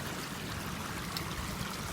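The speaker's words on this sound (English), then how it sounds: "But now I got a little, like, waterfall thingy here." A small waterfall swollen after a full day of heavy rain, a steady broadband rush of falling and splashing water that holds evenly throughout with no voices.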